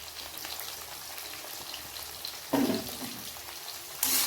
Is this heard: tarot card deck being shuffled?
no